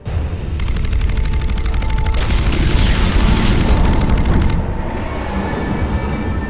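Weapons fire and explosions in the Mass Effect 3 video game: a loud, sustained rapid volley of gunfire over heavy booming rumble, fading into a lingering low roar.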